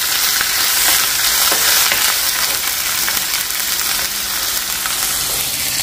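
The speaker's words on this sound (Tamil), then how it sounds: "ஸோ பன்னீர் வந்து இங்கே ஃப்ரை பண்ணிட்டுருக்கேன்" Paneer pieces frying in a hot pan give a steady, dense sizzle with crackling pops that continues evenly throughout, close and loud, with no talking.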